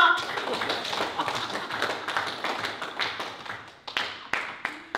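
An audience in a dramatic scene claps in rapid, uneven bursts, the sharp close hand claps thinning into a few louder single smacks toward the end, with voices mixed in.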